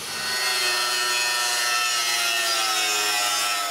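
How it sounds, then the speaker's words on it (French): A metal-cutting miter saw whines loudly and steadily as it cuts through metal for a gate, a sustained harsh grinding tone from start to finish. "je fais la première coupe avec ma scie à onglet pour le métal"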